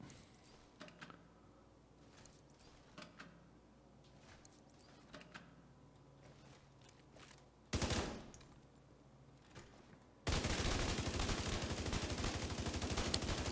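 Gunfire from The Division 2 video game, scattered single shots and short bursts at first, then a sudden loud burst and finally a sustained, dense stretch of rapid automatic fire filling the end.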